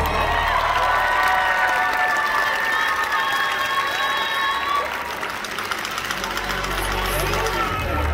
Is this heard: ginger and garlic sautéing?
no